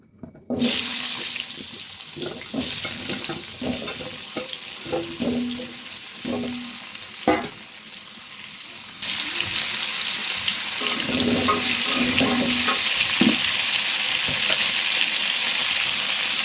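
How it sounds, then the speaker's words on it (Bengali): Whole potatoes frying in oil in a pan for a rohu fish curry, a steady broadband sizzle with occasional scrapes and stirring clatter, loudest and most even in the second half. "আস্তে আস্তে আলুগুলো একটু ভেজে নেব।"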